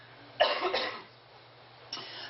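Two coughs from a man with bronchitis, the first a harsh double burst and the second shorter, close to the mic in an otherwise quiet room.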